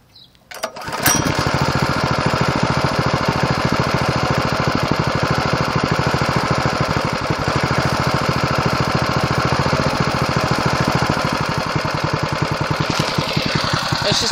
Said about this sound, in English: It's just about a perfect idle right there.